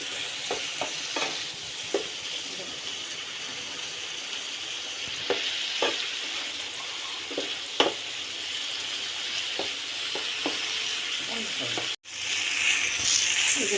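Hilsa fish cooking in a pan with winter vegetables: beans, spring onion and potato. It gives a steady sizzle over a broadband hiss, broken by frequent stirring scrapes and taps, with a brief dropout near the end.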